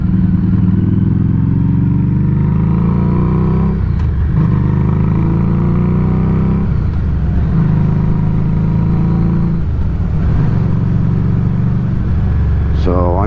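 A Harley-Davidson Street 500 motorcycle is ridden to work, its engine droning loudly and steadily with rhythmic shifts in pitch as it revs and changes gear, under heavy wind buffeting.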